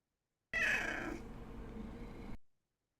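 A pet cat meows loudly and close by in one drawn-out call that trails off, with no talking.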